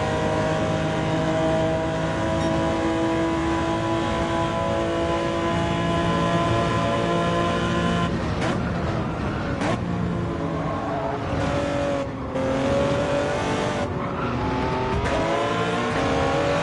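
Race car engine in Gran Turismo 7, a loud, steady high-pitched whine with shifting harmonic tones as revs rise and fall, briefly cutting out around mid-clip before resuming strongly.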